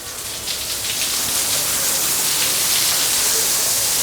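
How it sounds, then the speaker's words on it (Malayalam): An artificial rain system pours water indoors inside a modern house, producing a dense, loud, continuous rainfall hiss of drops hitting the surface, steady from start to finish with no talking. "കണ്ടോ മഴ പെയ്യാൻ തുടങ്ങി കേട്ടോ വീടിൻ്റെ ഉള്ളിൽ"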